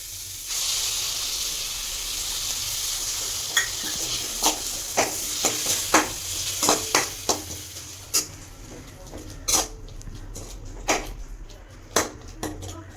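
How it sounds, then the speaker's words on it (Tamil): Ginger garlic and tomato paste frying in a pan for an egg curry, with a steady sizzling hiss and a series of sharp stirring scrapes and clinks recurring through the middle and end. "அதுக்கப்புறம் நம்ம எடுத்து வச்சுருக்க தக்காளி தக்காளி பேஸ்ட்டை ஆட் பண்ணுறோம்"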